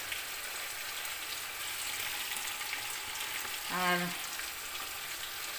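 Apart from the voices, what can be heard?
frying spices, garlic and ginger in a pan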